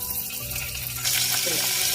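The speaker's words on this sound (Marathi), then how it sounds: "कुकर गरम झाला, तेल टाकून घेते 4-5 चमचे" Steady hissing sizzle of oil in a hot pressure cooker, growing louder and denser halfway through, with faint kitchen clatter underneath.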